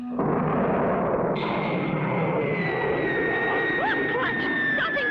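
A cartoon rocket blasts off with a loud, sustained roaring rumble that swells suddenly and keeps going, joined by rising whistling tones and a few chirping swoops over the roar.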